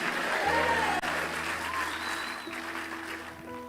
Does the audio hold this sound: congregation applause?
yes